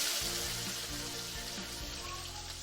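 Onion with dried chili frying in hot oil, a close continuous sizzle with bubbling crackle over a low background hum, no talking.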